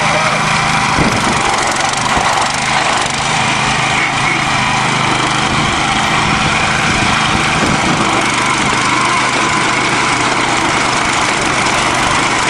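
John Deere tractor engine running hard during a tug of war on a farm laneway, a loud, steady, unbroken drone held throughout with little variation.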